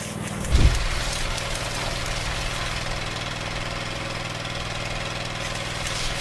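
A brush fire truck's engine idles steadily with a low, even rumble and a faint mechanical knock after a brief louder thump at the start, running continuously with no talk.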